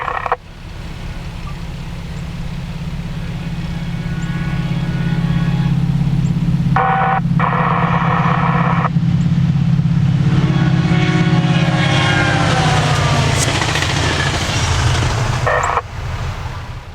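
A loud, steady low rumble of a passing train at Taft, Orlando builds and holds, with squealing metallic tones and bursts of clatter over it.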